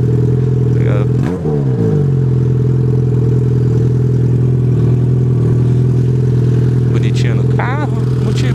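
A motorcycle with a broken exhaust, only the bare pipe left, idles with a loud, steady, rough drone and gets a quick throttle blip near the start. Someone talks over the engine, which stays close and dominant throughout.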